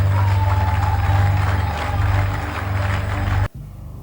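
Hall audience applauding and cheering loudly like a stadium crowd, a dense continuous roar of clapping with low hum underneath, cutting off sharply near the end.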